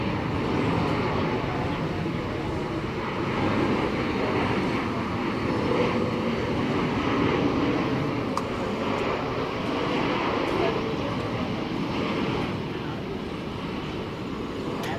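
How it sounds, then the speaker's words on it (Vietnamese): A Malaysia Boeing 737 Max 8 lands on runway 25R, heard from a distance as a steady broad engine roar with a rumbling low end that holds throughout. "Trong khi chiếc Boeing 737 Max 8 của Malaysia hạ cánh xuống đường băng 25 phải"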